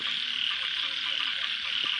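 A dense chorus of frogs croaking steadily outdoors, with insects buzzing faintly in the background.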